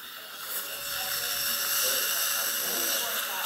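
A dental drill runs during abutment drilling with a CEREC guide drill kit, a steady high-pitched whine that builds up and holds for a few seconds, close and continuous.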